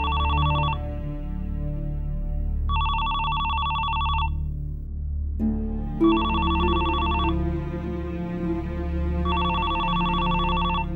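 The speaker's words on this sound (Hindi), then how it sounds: "ये जरूर फैसल का फोन होगा।" A home telephone rings in a domestic drama scene, sounding in loud repeated double bursts separated by pauses, over a low background music bed.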